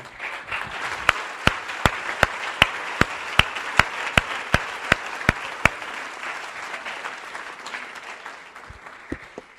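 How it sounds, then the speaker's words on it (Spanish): A church congregation applauding, a continuous wash of many hands clapping with sharper individual claps standing out in a regular beat, fading toward the end. "Yo creo que Dios merece un aplauso"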